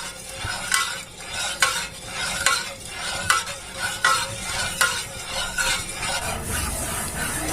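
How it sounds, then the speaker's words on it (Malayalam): Rice flour paste being stirred in a pan over a gas flame, with a steady run of scraping strokes and soft sizzling, each stroke rising and fading in a regular rhythm, close and moderately loud. "ഇത് നല്ലോണം ഇളക്കി കൊടുത്തോണ്ടേ ഇരിക്കണം"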